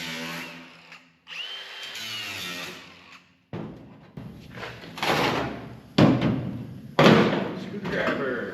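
A power tool cuts a hole in several loud, close bursts of grinding and whirring, broken by short pauses and clunks.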